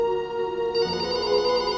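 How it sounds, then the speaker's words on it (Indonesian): A phone on a counter rings in an animated horror story, a bright electronic ringtone repeating steadily and loudly with no voices. "About an hour later, the phone on the counter rang."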